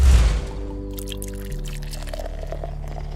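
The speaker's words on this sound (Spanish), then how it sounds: "el sonido parece ser más de una cerveza que de un chorro de whisky" Whisky goes into a glass as a recorded sound effect, opening with a loud close splash and then trailing into a steady gurgling pour with ringing glassy tones.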